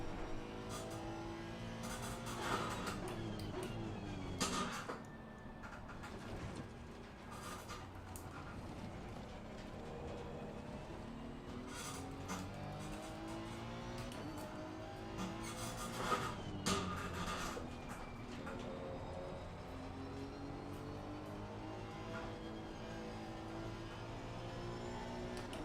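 Race cars roar through a corner in a racing video game, engines droning and revving steadily with shifting pitches and several louder surges as cars pass close.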